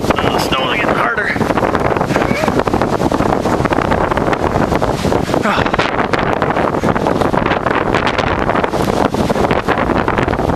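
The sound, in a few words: strong blizzard wind blowing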